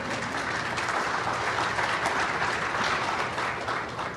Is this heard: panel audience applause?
yes